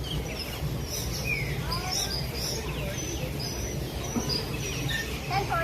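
A large bird calls at Disney's Animal Kingdom, its scattered chirps and whistles rising over a steady bed of crowd murmur, park ambience and low rumble throughout.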